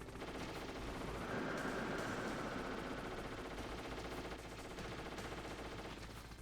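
Enemy helicopter machine gun fire in Metal Gear Solid, a continuous rapid rattling burst held for several seconds, dense and steady throughout.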